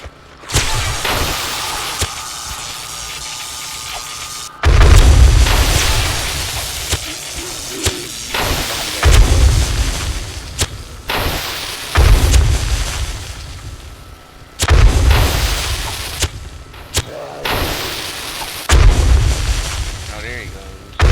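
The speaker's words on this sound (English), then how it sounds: "it's taking a lot of bombs to kill that guy" Bombs explode in the 7 Days to Die game, sounding as a series of loud, heavy booms spaced a few seconds apart, each with a long rumbling decay, over roughly twenty seconds.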